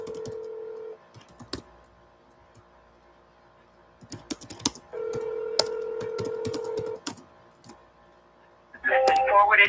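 An outgoing phone call rings back during a real estate cold call: two steady ring tones separated by a pause, with light clicking in the gaps and a brighter electronic sound near the end.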